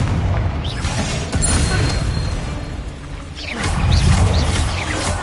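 A Confringo fire blast spell erupts in Hogwarts Legacy as deep, booming roars under a rushing whoosh, with a second heavy blast swelling up near the end.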